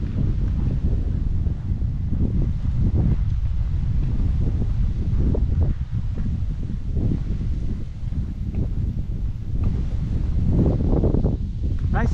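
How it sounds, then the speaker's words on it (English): Steady outdoor wind buffets the microphone on a sunny, breezy day, a continuous low rumble filling the whole stretch without letup. "Sunny, a little breezy."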